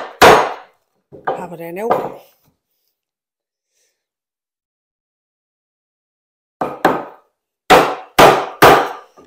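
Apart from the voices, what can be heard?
chopping wood for a Moxon vise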